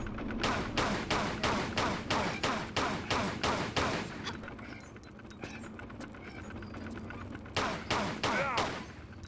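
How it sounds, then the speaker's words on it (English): Lara firing both pistols in Tomb Raider: The Last Revelation, a steady rhythmic string of sharp paired shots for about four seconds, a lull with mechanical clatter, then another quick run of shots. "I'm gonna kill them with both pistols."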